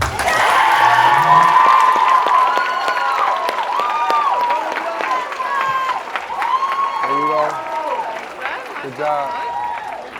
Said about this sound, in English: So give a round of applause to Gwen Rankin.